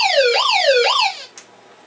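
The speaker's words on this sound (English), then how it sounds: "Again, the siren." A siren from an ACDelco solar-powered emergency radio wails through two rising-and-falling sweeps, loud and close, then cuts off abruptly with a small click before quiet.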